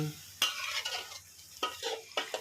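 Onion flowers and squid stir-fry in a pan, with quick spatula scrapes and clanks in short bursts over a soft sizzle, close up and fairly quiet.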